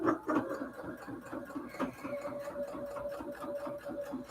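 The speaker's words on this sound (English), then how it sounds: "I say the sewing machine made you lazy because you could sew it by hand, Marty." A sewing machine stitches cathedral window quilt pillow cases in a steady, rapid mechanical rhythm, close and fairly loud, with a brief pause near the middle before the whirring resumes.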